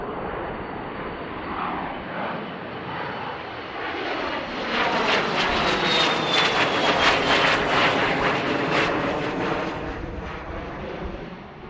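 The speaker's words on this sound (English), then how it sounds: "we have some other aircraft coming in here as well" Aircraft engines roar steadily at Boeing Field as a plane passes, a loud, broad drone that swells toward the middle and stays strong, with no voices.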